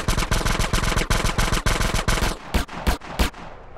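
Rapid automatic gunfire from GTA San Andreas, a loud close burst of quick shots followed by three separate single cracks.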